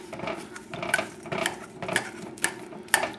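Hot, thoroughly cooked potatoes mashed with a slotted spoon, giving soft repeated clinks and scrapes of metal against a pot or bowl roughly every half second, close and fairly quiet with no talk.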